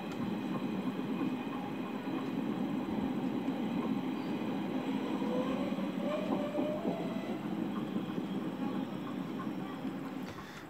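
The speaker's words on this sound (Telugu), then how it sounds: "పాలకొల్లు రైల్వే స్టేషన్లోకి వచ్చేసాం." A train at the Palakollu railway station platform, its steady rumbling rail noise continuing throughout at a fairly constant level with faint tonal squeals partway through.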